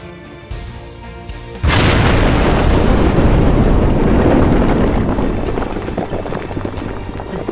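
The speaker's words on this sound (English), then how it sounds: "Charges are tamped and set, and the mine is evacuated for the impending blast." Blasting charges of tamped emulsion go off in the drilled holes of the South Deep underground mine: a sudden heavy boom, then a loud, sustained roaring rumble of rock and debris that slowly eases off.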